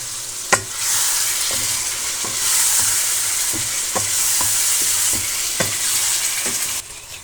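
Boiled potatoes frying in masala for a mixed vegetable dish, a loud steady sizzle close by with regular spoon taps and scrapes against the pan every second or so, no voices, ending with a sudden drop.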